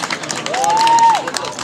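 Crowd applause at a volunteer fire brigade's 125th anniversary village celebration, honouring a placed competitor in a youth firefighting game; steady scattered clapping with a thin whistle-like tone rising and falling in the middle.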